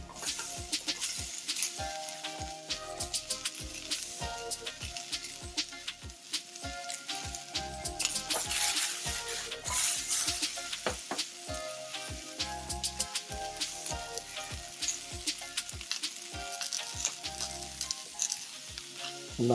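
Carrots, leeks, celery and onions sizzle in a pan for an oxtail stew, a continuous crackling fry with bursts of spattering and occasional stirring, close and steady with no talking.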